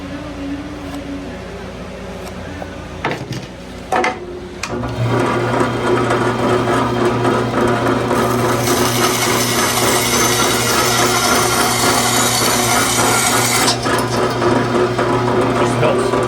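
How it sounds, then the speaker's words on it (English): A bandsaw runs loud and steady while cutting cedar wood for a goose decoy bill, its motor whine building after a few clunks and then holding a continuous cutting drone. "I'm gonna take a little bit of a cut off"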